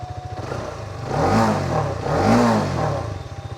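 A Hero Karizma XMR 210 motorcycle engine fires up and revs twice in close succession, rising and falling in pitch, with an idling beat before and after; no one speaks.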